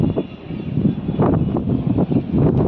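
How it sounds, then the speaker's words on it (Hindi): Strong wind gusts roar across a microphone in cloud-covered hills, a loud, buffeting rumble that rises and falls in uneven surges with no clear voice over it. "बहुत ही ज़बरदस्त हवा"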